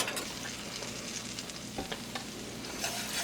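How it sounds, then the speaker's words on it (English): Flour is whisked into melted butter in a pan to make a roux: a steady, close sizzle with continuous scraping and stirring and a few sharper taps, all without any talking. "And we're just going to whisk this in,"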